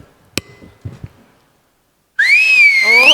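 At a Marathi comedy show, a man gives a loud, sharp whistle of approval. It is one long, rising and wavering tone that starts suddenly after a few soft knocks and a short silence.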